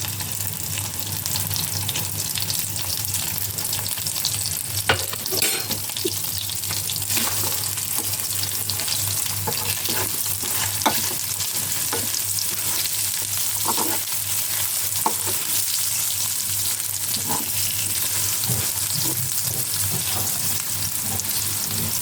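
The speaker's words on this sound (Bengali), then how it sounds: "তেল গরম হয়ে আসলে 1 কাপ পরিমাণ পেঁয়াজ দিয়ে দেবো।" A cup of onions sizzles in hot oil for a broiler chicken curry, giving a loud, continuous frying hiss with scattered crackles and occasional stirring scrapes and clinks throughout.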